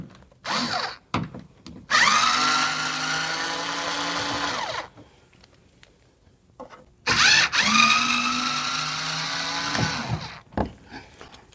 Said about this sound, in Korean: 우선은 그 십자 드라이버로 열 수 있는 볼트를 한번 풀어보도록 하겠습니다